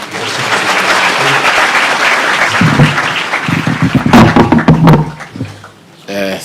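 An audience applauds to welcome the Deputy President at a school gathering in Kapsabet, with sustained clapping filling the hall, a few heavy knocks, and voices talking over the end.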